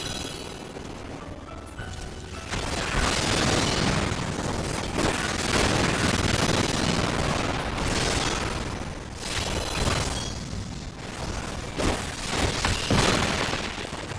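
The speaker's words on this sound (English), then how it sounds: "Guessing that fire raining down from the sky is the Black Mage." Fiery spell explosions from a Black Mage in Final Fantasy XIV Heavensward burst repeatedly in a dense, crackling barrage, with booming and shattering impacts layered over game effects for most of the stretch.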